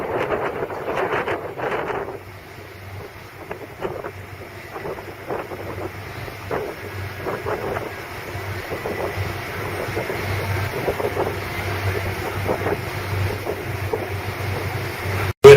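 Waves on Lake Erie slap against the hull of a cruise boat near Kelleys Island, a series of irregular splashes over steady wind and low engine rumble.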